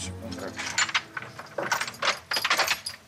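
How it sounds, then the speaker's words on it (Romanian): A bunch of keys jangles and clinks in irregular bursts as they are tried one after another in the lock of a gate, close and fairly loud. "Am băgat prima cheie, nimic."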